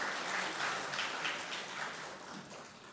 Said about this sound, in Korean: 자, 박수로 환영합니다.